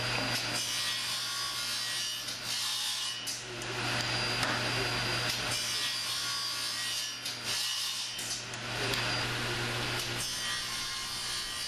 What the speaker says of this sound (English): The advancement of the stock through the saw is done by hand.